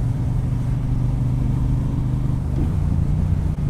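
A 2018 Triumph Bonneville Speedmaster cruiser motorcycle hums along at a steady pace, its engine drone loud, continuous and close throughout, with no talking.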